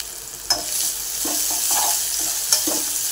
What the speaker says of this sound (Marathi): त्यानंतर शिमला मिरची हेही परतून घेऊया.